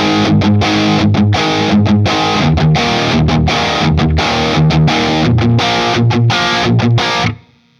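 Loud distorted electric guitar plays the driving, chugging verse riff with short rhythmic breaks, ending abruptly.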